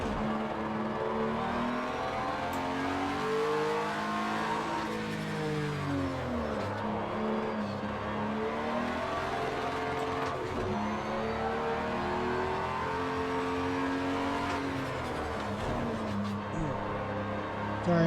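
Acura NSX race version engine sustained and loud on a race circuit, with rising and falling pitch sweeps as it accelerates and shifts, steady throughout with no speech.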